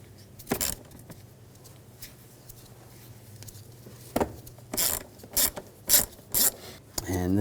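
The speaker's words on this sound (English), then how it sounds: "take these two screws out" Two screws on a 2007-2013 BMW X5 3.0L inline-six being backed out with a T25 socket during ignition coil replacement, giving a series of short close ratcheting clicks and metallic rattles, spaced out and growing busier toward the end.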